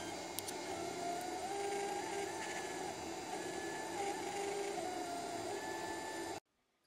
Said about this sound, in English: So here is the purple and red filament being printed on the Strike Mini 3D printer.